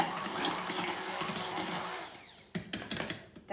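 An immersion blender whirs steadily while mixing oil into homemade mayonnaise, a fairly quiet motor drone that cuts off partway through, followed by a few sharp clicks and knocks.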